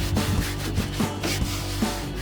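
Rag wiping and rubbing an adhesive-smeared area with brake parts cleaner while installing Husky Liners mud guards on a 2019-2024 RAM 2500: close, repeated scrubbing strokes in an uneven rhythm, with no talk.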